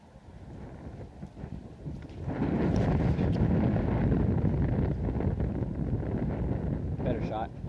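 Gusty wind buffets the microphone on an open disc golf field, a low roaring rush that swells louder after the first couple of seconds and holds steady.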